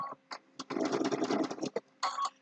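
A sewing machine runs in a short burst of rapid stitching through quilting fabric, nearby and steady, with a few brief taps before it and a shorter run afterward.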